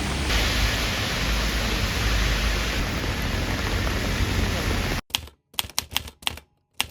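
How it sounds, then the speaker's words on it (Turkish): Steady hiss of rain falling in Ohrid, North Macedonia, for about five seconds, then it cuts to a few sharp, irregular clicks and taps in near silence. "Yağmur yağıyor."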